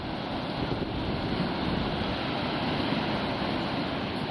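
Atlantic Ocean surf at Smith Point, Long Island rolls in as a loud, continuous roar of breaking waves mixed with wind buffeting the microphone.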